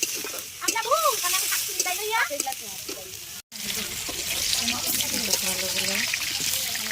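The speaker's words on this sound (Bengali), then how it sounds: "লাল লাল করে ভেজে নিচ্ছি, একদম কড়া ডোজের হয়ে গেছে" Food deep-frying in hot oil until reddish sizzles steadily outdoors at a picnic, with a voice talking over the constant crackle.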